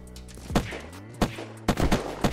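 Gunfire in the Unturned video game: a handful of sharp, loud shots at uneven intervals with booming low tails, the last few coming close together.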